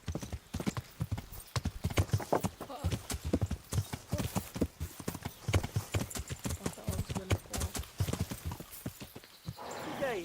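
Horse hooves clip-clop in a steady galloping rhythm across the Kingdom Come Deliverance game world, loud and close, with a short neigh near the end.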